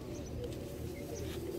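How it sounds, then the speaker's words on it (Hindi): Soft pigeon coos and faint bird calls over a steady low background rumble, continuous and fairly quiet throughout. "मगर ये उठाने के लिए कुछ 2-4 कबूतर आ रहे हैं"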